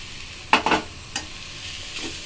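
Grated carrot is stirred into egg noodles frying in a pan, giving two quick close scraping clatters, then a softer scrape and a faint sizzle behind them.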